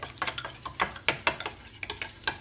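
Seasoning with black garlic powder and thyme stirred together in a bowl, a quick series of light scraping, clinking ticks in an uneven rhythm, close and fairly quiet, with no talking.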